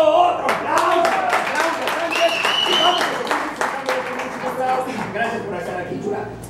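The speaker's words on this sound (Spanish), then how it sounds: "¡Otro aplauso! ¡Bravo!" A live audience claps and cheers loudly through most of the clip, the clapping thinning toward the end, while a voice calls out over it.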